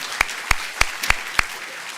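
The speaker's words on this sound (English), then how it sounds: "Let's give them a round of applause." Five crisp, evenly spaced claps ring out close by, alone with no voices.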